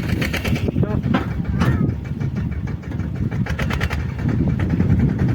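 A tractor engine runs with a steady low rumble throughout while people talk over it and a bird chirps faintly in the background.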